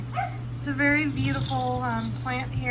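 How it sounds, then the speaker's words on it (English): Several dogs barking and yipping outside, with excited yelps and whimpers rising over someone talking about plants. A steady hum sits underneath. "I'm sorry if you guys can hear my dogs outside."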